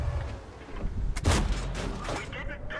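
A tank cannon shot in a World of Tanks-style game with a JagdPzIV, a heavy booming blast followed by a sharp metallic ricochet of a shell glancing off a turret, over a low rumbling engine.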